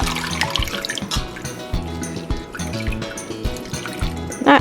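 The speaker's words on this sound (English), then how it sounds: "Blanched spinach, I'm going to squeeze it out." Water squeezed by hand from a ball of blanched spinach trickles and drips steadily into a sink, close and fairly clear, under a bed of background music.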